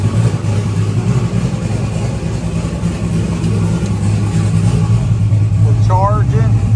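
A race car engine idles steadily up close, a loud continuous low drone with slight pulsing, someone talking over it and a short rising tone near the end.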